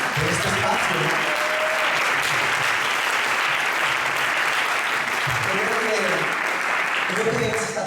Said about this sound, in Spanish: ¿Por qué no le damos un aplauso a Dios por este espacio, ¿no?